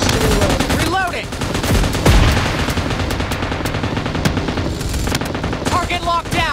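Vehicle-mounted missiles and gunfire roar in the PUBG Mobile video game, a loud, dense barrage of rapid shots and booms that runs without letup, with a voice speaking over it.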